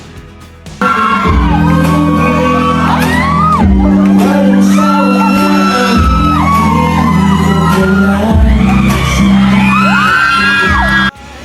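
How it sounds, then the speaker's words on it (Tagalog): Crowd screaming and cheering loudly through a live song performance on a TV variety show, shrill high yells rising and falling continuously over sustained music, with a loud start and sudden stop. "halos hindi na marinig ang kanilang kinakanta dahil sa sobrang sigawan"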